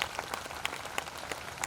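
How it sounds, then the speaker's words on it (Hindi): An audience at a meditation camp claps in a scattered, thin patter of hand claps, faint and distant with a few sharper individual claps standing out, and no talking. "करेंगे तो खुद के लिए तालियां बजाइए।"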